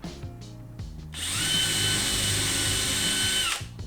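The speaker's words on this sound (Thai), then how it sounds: "โอเคเดี๋ยวลองเจาะดูกันนะครับ" A power drill bores a dowel hole into wood, whining steadily and loudly for about two seconds after some softer handling noises, then winding down.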